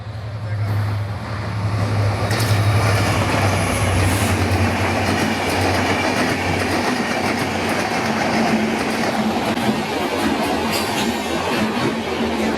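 Maitree Express passenger train running between Dhaka and Kolkata, heard from on board as a loud, steady rumble with continuous wheel clatter and rail noise throughout, a low droning hum early on.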